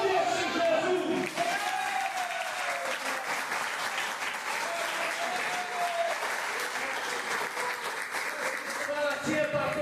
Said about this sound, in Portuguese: Aplaude esse Jesus